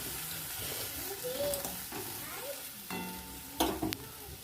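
Fish curry with coriander leaves bubbling and sizzling in a pan, a steady close simmer with soft stirring scrapes and a couple of sharper clatters near the end, faint voice in the background.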